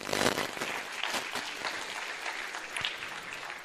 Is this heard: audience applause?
yes